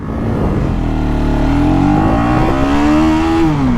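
A 2024 KTM Duke 250 motorcycle accelerating hard in first gear, its engine note climbing steadily in pitch, loud and close throughout with no talk over it.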